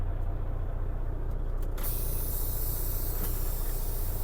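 Truck air brake system with the yellow and red valves pushed in, a steady hiss of released air that jumps suddenly louder partway through and continues without talk.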